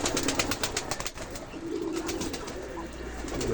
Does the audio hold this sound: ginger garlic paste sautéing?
no